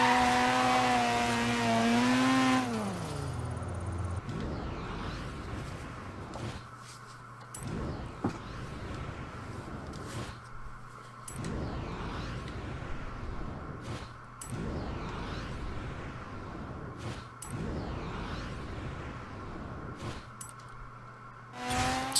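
A Mazda RX-7 FC3S drifting in Forza Horizon 3 revs hard, then settles into a steady engine drone cut by repeated sharp pulses of throttle and tire noise, loud and close with no talk.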